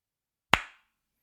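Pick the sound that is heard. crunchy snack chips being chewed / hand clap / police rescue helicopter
hand clap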